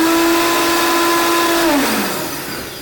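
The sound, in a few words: Vitamix blender running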